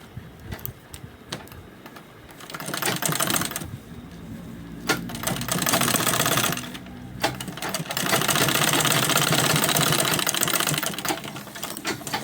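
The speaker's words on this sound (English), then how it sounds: "I'll fold it and stitch it" A sewing machine stitches a folded seam on a crossbody sling bag in several bursts of rapid mechanical clatter, with short pauses between runs.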